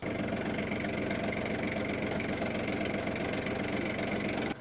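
A steady, loud tractor engine idles with a rhythmic low knocking chug throughout, then the level drops abruptly near the end.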